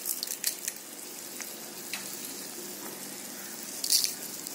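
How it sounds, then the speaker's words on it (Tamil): Tamarind water with rock salt bubbles in a pan over medium to high flame, a soft steady simmer with occasional pops and crackles, heard alone and fairly close. "இந்த தண்ணி சுண்டி கொஞ்சம் கெட்டியான பதம் வர வரைக்கும் அப்படியே கொதிக்க விட்டுடுங்க."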